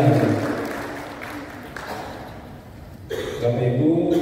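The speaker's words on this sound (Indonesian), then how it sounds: "Tepuk tangan untuk kita sekalian." An audience at a Papua provincial government ceremony claps in a broad, continuous wash that tapers midway and then swells again, filling the room without any voices over it.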